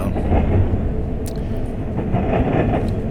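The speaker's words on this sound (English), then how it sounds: "This was a really long train" A long intermodal freight train rumbles steadily past, a loud continuous roar of rolling wheels and rattling cars with no break in the noise.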